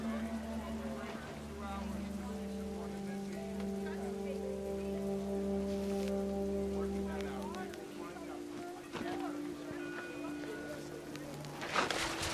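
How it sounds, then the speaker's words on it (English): Heavy rain pours down in the video game What Remains of Edith Finch, a steady wash of downpour under sustained musical tones, with a brief louder burst near the end. "The rain came down in buckets then"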